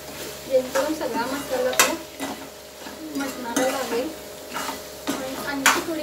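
Spiced masala for a Sunday mutton curry is sautéed in a pan, a spoon scraping and clinking against the metal in irregular strokes over a soft sizzle, close and moderately loud with no one talking.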